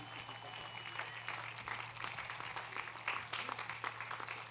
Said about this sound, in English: another round of applause to welcome back the Senior Wind Band